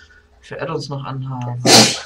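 A single sharp sneeze bursts out loudly near the end, right after someone speaks briefly in German close to the microphone.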